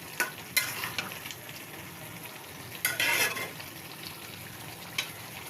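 Meat sautéed in a pan with a utensil scraping and stirring, soft sizzling under intermittent sharp scrapes and clatters, close and fairly quiet, no talk.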